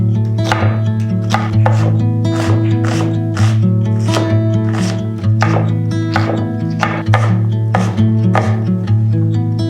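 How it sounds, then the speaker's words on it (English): A knife cuts up onion on a board in a steady run of sharp chopping strokes, about a dozen clear hits over a constant low hum, with no talk. "First up here, I am just cutting up some onion."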